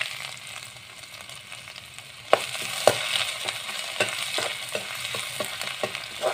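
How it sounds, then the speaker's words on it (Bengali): Fenugreek seeds and ginger-garlic paste sizzle in hot oil in a pan, starting as a quiet simmer and then jumping into a louder, steady fry with repeated scrapes and clinks of stirring, and no talk over it. "এয়া মেথি গুটিকেইটা তেলত দি ল'লোঁ। তাৰপিছত আদা নহৰু পেষ্টটো দিছোঁ।"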